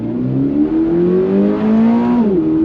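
A 2022 Subaru BRZ's flat-four engine revs steadily up toward its 7,500 RPM redline, a loud, continuous rising drone that holds near the top and then drops away as the revs fall, with no voices over it.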